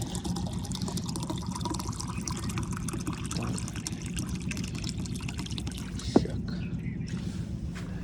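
Water poured to fill a pigeon water container on a rooftop coop, a steady close trickle and splash running throughout with one sharp knock near the end.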